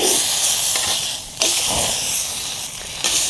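Meat searing in a hot cast iron pan gives a steady, loud hiss with a couple of sharper sizzle bursts, and no talking.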